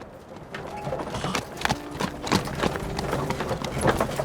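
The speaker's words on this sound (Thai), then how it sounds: "ท่านปัว รถม้าของท่านพังได้ยังไงอ่ะ" Hooves of a horse pulling a carriage clip-clop in a quick, uneven rhythm close by, with a faint rattle and steady background murmur beneath the beats.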